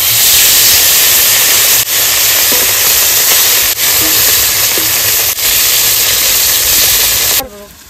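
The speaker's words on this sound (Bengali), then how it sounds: "এবার ওই তেলে এই মাছগুলো ভেজে নেব।" Small mourola fish from the Digha sea sizzle in hot oil used for frying rohu, a loud, steady hiss that runs unbroken for several seconds, dips briefly a few times, then cuts off abruptly near the end.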